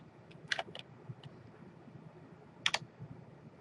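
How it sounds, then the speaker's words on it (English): Quiet bursts of computer keyboard typing as a sum formula is entered into a spreadsheet, a few short clusters of keystrokes separated by pauses, with no voice heard. "Type in my sum formula."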